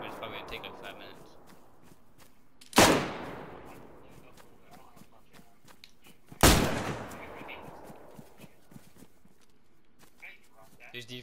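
Two sharp, loud gunshots from a video game, several seconds apart, each leaving a decaying echo, with faint clattering and small sounds between them.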